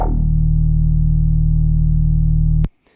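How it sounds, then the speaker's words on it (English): Yoi-style synth patch from Serum alone, a steady buzzing, harmonically rich tone held loud and close for about two and a half seconds before cutting off abruptly, leaving a faint click and brief tail. "So literally the Yoi sounds like this with just Serum."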